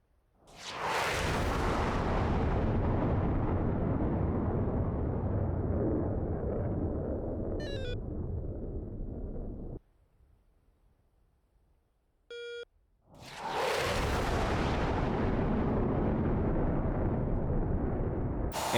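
F-16 in the DCS flight simulator making a flyby near Mach 1, a loud roaring rush that drops to near silence with short electronic beeps, then the heavy roar returns; no talk.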